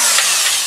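A power drill boring holes during a garage roof repair, running as a steady, loud, close whir with a rough broadband texture through the short moment.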